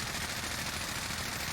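Rapid automatic gunfire in the video game Warzone, an Old Faithful blueprint weapon being tested for recoil, a dense unbroken burst that is loud and continuous throughout with no talk.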